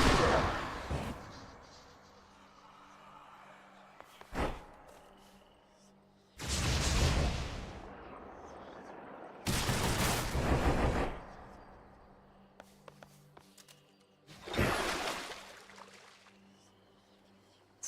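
Weapon projectiles exploding in the Hades II video game: three loud, sharp blasts, each trailing off over about a second, with a smaller pop earlier and quiet gaps between.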